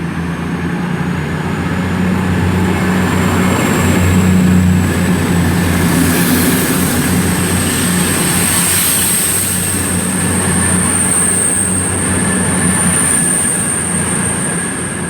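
Class 222 unit 222016 pulling out of Leicester station on a service to London St Pancras, a steady rumbling diesel drone with a sustained high whine running throughout, fairly close and loud with no talk.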